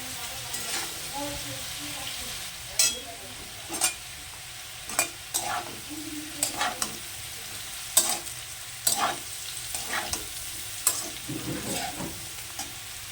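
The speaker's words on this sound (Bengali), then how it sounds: "দিয়ে আলুটা ভাজবো বলে আগে আলুটা আমি ভেজে নিলাম।" Potato pieces fry in hot oil in a pan for a cauliflower-potato dish, with a steady soft sizzle broken by repeated sharp scrapes and clinks of a spatula stirring at close range.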